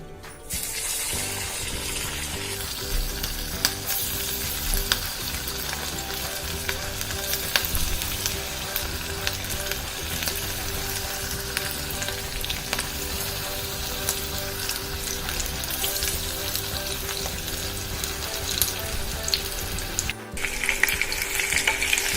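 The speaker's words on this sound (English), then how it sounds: "I've coated the prawns and I'm going to add this one by one to the oil. So let's start frying." Batter-coated prawns deep-fry in hot oil with a steady, loud, dense sizzle and crackle that runs unbroken, the bubbling texture shifting slightly as pieces go in.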